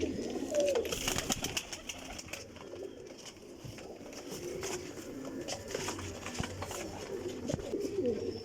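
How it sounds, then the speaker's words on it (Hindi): Kasuri flying pigeons, high-grade two-year-old birds, cooing in a loft with soft repeated low coos and scattered chirps over steady background noise. "कसूरी कबूतर जे ते बहुत हाई लेवल का कबूतर जे"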